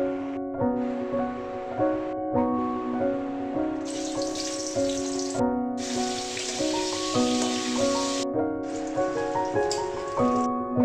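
Pointed gourd (potol) pieces frying in hot oil until reddened, for a prawn, potato and potol curry; a soft, uneven sizzle rises and falls beneath steady background music.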